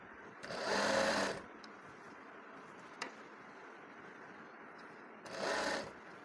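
An electric sewing machine stitches a kurti sleeve seam in two short whirring runs of about a second each, separated by a quiet pause with a single soft tick, heard close and clear.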